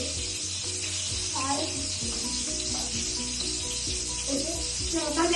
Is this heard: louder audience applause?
no